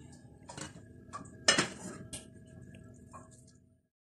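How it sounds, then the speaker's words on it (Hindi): A metal spoon scrapes and taps against a pot and dish while mixed vegetable pulao is served, a few soft clinks and scoops, close and quiet, fading to silence at the end. "अब मैं इसको डिश आउट करती हूँ।"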